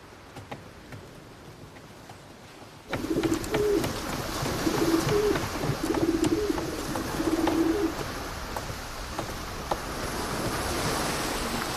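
A pigeon coos in soft repeated phrases at sea beside a ship, the low murmuring calls coming in a steady series over a constant rush of wind and waves.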